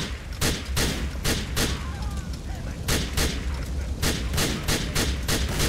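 Gunfire in GTA IV, a rapid series of loud, close gunshots spread across the stretch, layered over a rumbling fire and explosion background.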